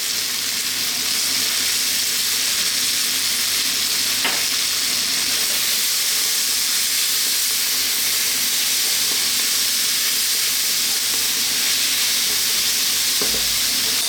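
Chicken fried rice with chilli, salt and black pepper fries hard in a pan, deliberately cooked toward burning, giving a loud, constant, close sizzle and hiss that never lets up, with occasional faint stirring.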